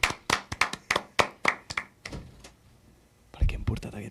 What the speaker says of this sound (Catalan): Un aplaudiment pel senyor Caganer